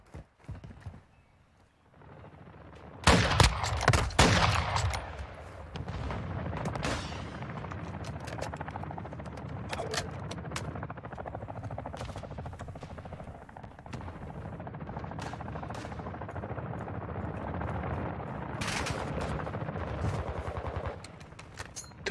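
Gunfire in the video game Call of Duty: Modern Warfare 2, loud sharp bursts starting after a short quiet moment, then a sustained mix of repeated shots and busy background noise at a steady level, with no talking.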